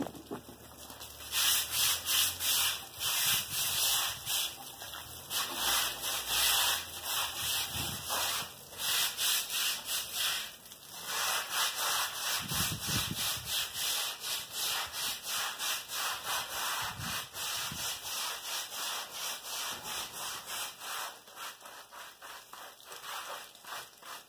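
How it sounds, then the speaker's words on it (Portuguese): Scrubbing of a mortar wood-effect floor during washing, a continuous rough back-and-forth rubbing in a steady rhythm, close and fairly loud, with brief pauses. "Esfregando bem."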